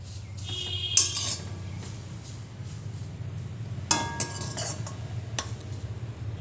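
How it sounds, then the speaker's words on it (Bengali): Leftover rice is reheated in a wok, with a spatula scraping and clinking against the metal in a few sharp strokes over a quiet low kitchen hum. "কড়াইতে ফেলে একটু গরম করে দিচ্ছি"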